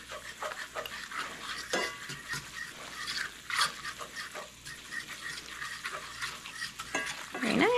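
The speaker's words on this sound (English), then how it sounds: "you want this to cook for about a minute, boiling like this" Flour gravy bubbles in a pan as it is stirred, giving irregular scraping and clinking strokes of a utensil over a low simmering hiss, fairly close and without talk.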